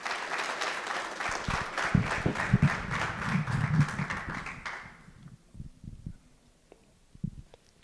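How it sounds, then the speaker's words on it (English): A hall audience at a university campus student council inauguration ceremony applauds the President, a dense, steady wash of many clapping hands lasting about five seconds, then cutting off to a near-quiet room with scattered taps. "let's applaud the President"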